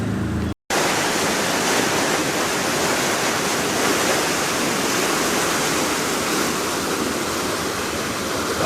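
Heavy rain pours down at a canal lock on a grey day, a dense, loud, unbroken hiss of water filling the whole stretch after a brief cut near the start.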